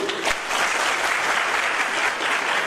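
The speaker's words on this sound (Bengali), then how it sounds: "আমরা করতালি দেই" An indoor audience at a police recruitment results event in Tangail, Bangladesh, claps steadily and continuously, a dense, even applause throughout.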